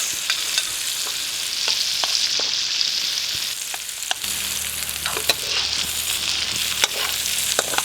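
Onion and garlic sautéing in a pan, a steady close sizzle with occasional stirring clicks and scrapes, no talking.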